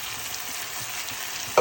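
Gravy sizzles steadily in a pan with aubergine and prawns, a close, continuous frying hiss broken near the end by a brief louder clatter of stirring, with no talking.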